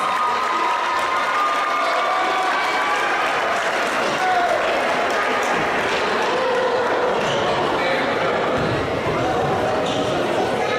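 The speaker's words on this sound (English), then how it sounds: "Let's give a round of applause for our super singers." Audience applause at a JV boys basketball game in a gym, honoring singers: a continuous, moderately loud wash of clapping and crowd noise with a voice speaking over it throughout.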